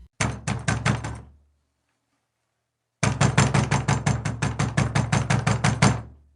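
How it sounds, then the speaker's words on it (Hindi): Knuckles rapping on a wooden door: a quick burst of about eight loud knocks, a pause of silence, then a longer run of about fifteen steady, close knocks. "दरवाजे पर दस्तक हुई।"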